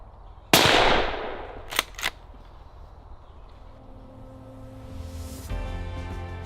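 A rifle shot rings out once while stalking a muntjac buck in woodland undergrowth, a loud sharp crack with a decaying echo, followed by two quick clicks of the bolt or gear and quiet outdoor ambience.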